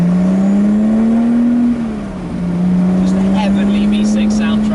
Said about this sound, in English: Heavenly V6 soundtrack.